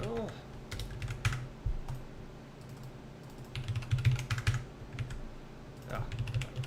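Keys are typed on a computer keyboard in quick bursts of clicking taps separated by short pauses, close and fairly quiet, with a voice briefly audible at times.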